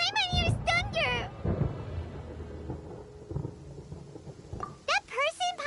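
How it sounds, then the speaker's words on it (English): Deep rolling thunder rumbles in Genshin Impact, building low and steady for several seconds beneath game music and voices, with a child-like character voice speaking at the start and end. "Paimon hears thunder!"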